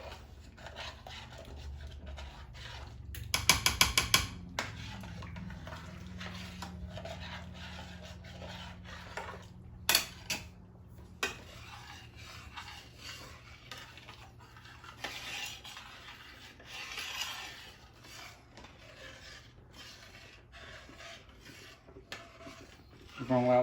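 A spoon stirring grits in a pot for shrimp and grits, scraping and clinking against the pot bottom in irregular close strokes, with a few sharper metallic knocks and quiet kitchen background.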